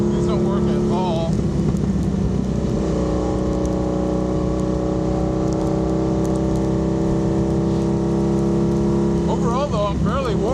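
A Honda Magna motorcycle's exhaust drones steadily and close for the whole ride on a winter road in Wisconsin, with wind rushing over it and a voice briefly heard near the end.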